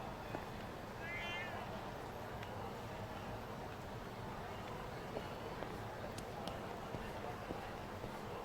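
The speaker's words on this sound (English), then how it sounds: "Oh yeah, I heard a cat." A cat meows in the video game Lost Judgment, a few short faint cries rising briefly over steady ambient game noise and background clatter.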